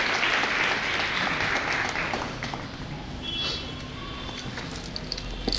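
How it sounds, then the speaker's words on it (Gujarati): Audience at a primary school new building inauguration ceremony claps in sustained applause, loud and dense at first, then thinning slightly but continuing steadily to the end, with no talk. "આપણે જોરદાર તાળીઓના ગડગડાટથી આ તકને વધાવતા રહીશું."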